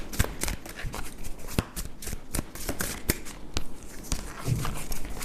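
Tarot cards being shuffled by hand, a run of crisp riffling snaps and soft flicks repeating in an irregular rhythm, close and clear with no talking.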